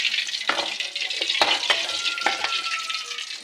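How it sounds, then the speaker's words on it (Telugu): Green chillies frying in hot oil in a pan, a steady sizzle broken by occasional sharp crackles and stirring scrapes, close and moderately loud with no talk. "ఇప్పుడు ఇవి కూడా నూనెలో వేయించుకోవాలి"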